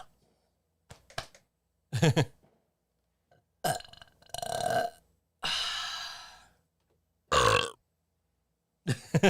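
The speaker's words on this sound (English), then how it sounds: "Yours was obviously a Pepsi burp." A loud belch after drinking Pepsi, heard alone as several separate gulping burps in a quiet room across the clip, with short gaps of silence between them.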